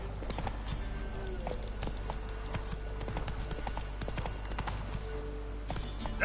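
Roach the horse gallops in The Witcher 3, a steady clip-clop of hooves running continuously over game ambience and low rumble from start to finish.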